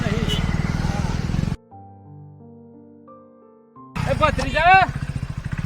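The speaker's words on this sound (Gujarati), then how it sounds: "કાકો બાઈક લઈને આવ્યો" A motorcycle arrives on a road, its engine rumbling loudly under people talking at the start and the end, with a quieter stretch between.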